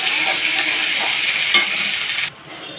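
Ginger, garlic and green chilli paste frying with onion gives a steady, fairly loud hiss with faint stirring scrapes that cuts off abruptly near the end, leaving a quieter tail.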